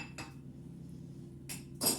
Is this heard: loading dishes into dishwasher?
yes